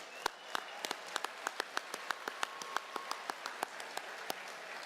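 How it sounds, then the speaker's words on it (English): A few people at a graduation ceremony clap sparsely, producing distinct, separate handclaps at an uneven pace, faint and without cheering. "So let's give them a round of applause."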